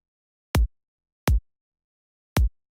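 Three isolated kick drum hits from an electronic track's drop, heavily pushed, each a punchy low thump with a sharp click on top, spaced unevenly and dry against silence.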